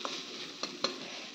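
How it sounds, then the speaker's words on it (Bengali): Potatoes fry in a small amount of oil in a home kitchen, giving a soft, continuous close sizzle broken by three brief clinks of stirring. "এরকম অল্প তেল দিয়ে আলু ভাজা কার কার পছন্দ?"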